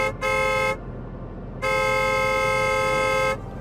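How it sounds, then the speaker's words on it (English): Car horn honking, two loud sustained blasts, the first short and the second held for nearly two seconds, over a low idling rumble. "I started honking the horn."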